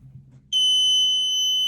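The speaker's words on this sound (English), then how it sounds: "the buzzer would beep" Buzzer on a rescue device circuit sounding a single sustained, piercing electronic tone that starts abruptly and holds steady to the end, loud and close after a quiet moment.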